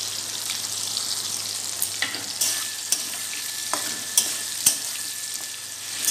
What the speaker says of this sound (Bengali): এবার এর মধ্যে দিয়ে দিলাম কেটে রাখা ক্যাপসিকামগুলো।